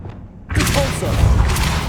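A Repulsor spell cast in Hogwarts Legacy, a sudden deep boom that bursts in after a quiet moment and rolls into a sustained rumbling thud with scattered impacts.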